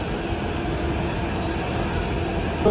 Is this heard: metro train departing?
yes